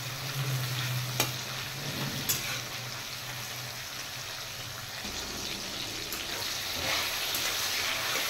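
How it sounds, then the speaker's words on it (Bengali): Chopped large tomato frying in a pan, a steady broadband sizzle with occasional stirring scrapes and clicks, close and fairly loud, with no voices. "টমেটোটা একটু ফ্রাই করে দেব।"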